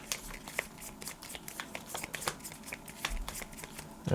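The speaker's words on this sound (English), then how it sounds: "So I've actually got to shuffle my deck too." A deck of cards for the Seize the Bean board game is shuffled by hand, giving a steady run of quick, crisp riffling clicks and flutters that carry on close and unbroken.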